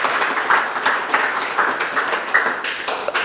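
A gathered audience applauds its performers with brisk, close hand clapping that holds at a steady, fairly loud level throughout, a few individual claps standing out.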